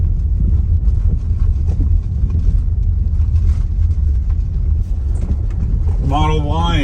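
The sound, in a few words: Tesla Model Y driving on a steep dirt gravel road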